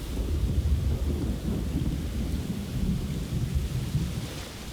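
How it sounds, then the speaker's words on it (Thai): Rain and thunder in a Blade & Soul video game cutscene, a dense, steady downpour over a deep, rolling rumble that swells and fades, loud and continuous. "เป็นฉากที่ฝนตกฟ้าร้อง ทุกอย่างผ้ามัว"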